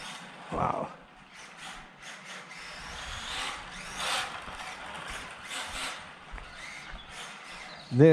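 Vintage Tamiya 1/10 Porsche 908 RC car with a loose differential, giving a whirring, rattling drivetrain noise that rises and falls in bursts, close by, with a brief voice at the start and end.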